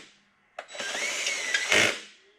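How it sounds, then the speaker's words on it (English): Power drill running down clutch cover bolts on a Yamaha Grizzly 700 ATV, a sharp click then a steady whirring buzz for about a second, ending in a louder burst as the bolt seats, close up. "Run them down with your drill."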